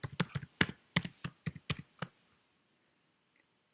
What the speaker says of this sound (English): so I'm going to type in attach SSD.